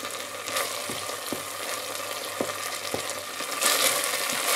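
Apple cider vinegar reduces in a pot, giving a soft, steady sizzle and bubbling hiss with occasional light clicks of a utensil stirring, moderately quiet and without talk.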